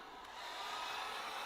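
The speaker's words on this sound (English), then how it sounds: "I'm just going to take a hairdryer" A hairdryer running on high blows over alcohol inks to dry them, giving a steady, even whoosh with a constant motor whine and no pauses.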